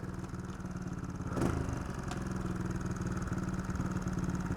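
A 4-stroke trials motorcycle climbs in second gear, its engine a steady, close drone broken by one sharp clatter or burst partway through.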